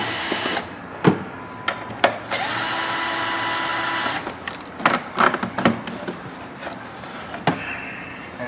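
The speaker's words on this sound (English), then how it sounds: "The next thing we're going to do is take off this plastic cover piece using an 8mm socket." An 8mm socket on a power tool removes a plastic cover from a 6.0L Chevrolet GMC truck during throttle body service, giving short whirring bursts and one longer sustained run mixed with clicks and clunks, close and fairly loud.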